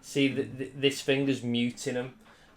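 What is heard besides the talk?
None of the usual background noises is heard.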